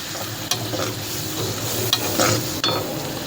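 Green chillies and coriander sautéing in a pan for a soya gravy, a steady sizzle broken by a few sharp scraping stirs, close and fairly loud, with no one speaking.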